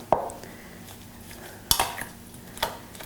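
A spoon scrapes and clinks against a bowl while seasoned butter spread with black pepper is lightly mixed for garlic bread, a few sharp taps between soft, faint stirring sounds.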